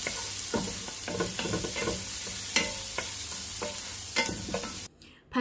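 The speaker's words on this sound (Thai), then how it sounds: "ผัดกระเทียมพอหอมจ้ะ" Garlic sizzles in melted butter in a pan while being stirred for a shrimp cream-sauce spaghetti, a steady close crackle with repeated scraping stirs, cutting off abruptly near the end.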